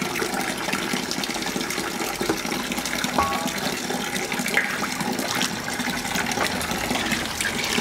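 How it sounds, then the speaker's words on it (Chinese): Water pours into a cooking pot in a continuous close gushing stream, steady and fairly loud throughout. "往我锅里加水，多加一点。"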